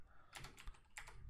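Quiet keystrokes on a computer keyboard, a short burst of several taps, then a brief pause and a couple more, soft and close.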